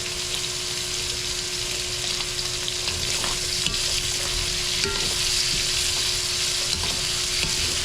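Meat sautéing in a pan gives a steady, close sizzle that runs without a break, with a few faint clinks of stirring and no voices.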